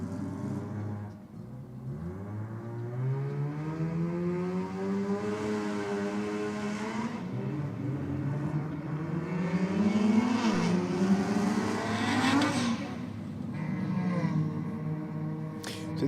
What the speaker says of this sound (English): our little Mazda RX-3 Coupe about to have another shot at the